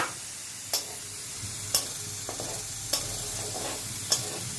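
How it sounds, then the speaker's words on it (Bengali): Black cumin seeds sizzle in hot oil with green chilies, a quiet steady hiss punctuated by four sharp, evenly spaced spatula taps on the pan. "তেলটা গরম হয়ে গেছে, কালো জিরেটা দিয়ে দিচ্ছি"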